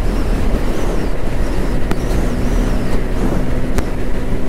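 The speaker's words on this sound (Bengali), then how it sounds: "এত পরিমাণ বাতাস, লাইন একদম অটোমেটিক চেঞ্জ হয়ে যায়" Constant loud roar of strong wind and road noise inside a vehicle driving in Dubai, steady throughout with a few faint ticks.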